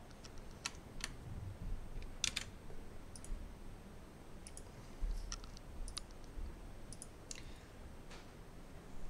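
A handful of faint, sharp computer mouse clicks scattered irregularly over a quiet room hiss, some coming in quick pairs, with no talking.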